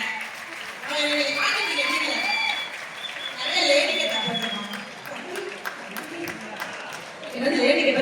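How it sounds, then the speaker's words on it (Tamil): Audience applause at a Tamil television comedy show, dense clapping sustained for about eight seconds with talk and studio sound mixed in, swelling again near the end. "நல்லா கைத்தட்டேன்"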